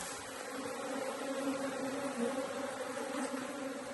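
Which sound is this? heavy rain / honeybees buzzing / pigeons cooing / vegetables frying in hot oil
honeybees buzzing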